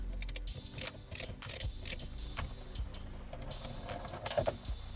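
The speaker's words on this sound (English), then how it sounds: "This is an M12 spline bit or triple square bit. I will use it to unscrew the steering wheel bolt." Quiet ratchet-like clicks and metallic ticks come from undoing the steering wheel bolt of a Passat B6 with an M12 triple square bit, in short bursts separated by soft rattles.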